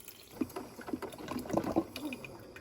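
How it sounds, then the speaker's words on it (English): Water is poured into an opened package of buttery-syrup-scented discount store product, a soft irregular splashing and trickling at close range with no talk over it. "Now we pour the water in."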